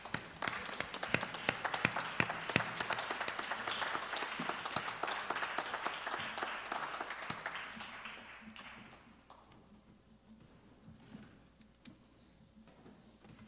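Audience applause for a district leader, an assemblywoman and a councilwoman at a church social justice ministry gathering: dense, sustained clapping for about nine seconds, then thinning into scattered claps and room murmur.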